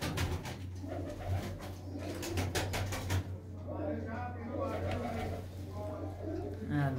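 Black Cheena pigeons coo in a loft, a soft, rolling murmur under someone talking, with a steady hum running beneath throughout.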